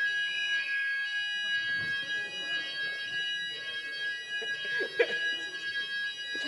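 Fire alarm test during an indoor talk, a steady high-pitched electronic tone sounding continuously at moderate level, with faint room noise and a brief thump underneath.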